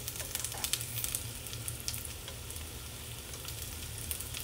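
Pierogies fry in butter in a pan, giving a soft, continuous sizzle with light crackling pops scattered through it, all fairly quiet and close.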